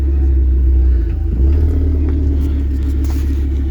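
A car rumbling past on the road, a loud continuous low engine drone with a brief dip partway through, close and steady throughout.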